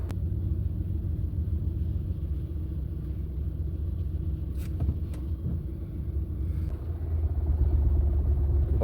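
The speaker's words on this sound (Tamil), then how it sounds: "லேசாக கிளச்சை விட்டுட்டு ஆக்சிலரேட்டரை லேசாக நான் வந்து ரேஸ் பண்ணக்குள்ள நார்மலாக வாகனம் வந்து லேசாக மூவ் ஆகிட்டு போகுது" A car pulling away gently as the clutch is eased out and the accelerator lightly pressed, a steady low engine rumble that swells slightly near the end, heard from inside the vehicle with no talking.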